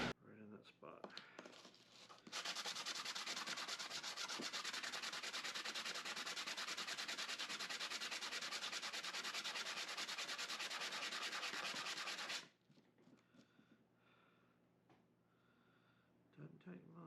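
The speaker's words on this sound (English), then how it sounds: "We might need to do a little bit of sanding." Steady rasping sanding on a small hard ring runs for about ten seconds without pause, with quiet handling noises before and after.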